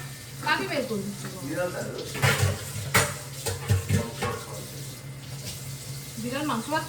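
Dishes scrubbed under a running kitchen tap, with a continuous splash of water and clatter of utensils while someone talks over it at a close distance.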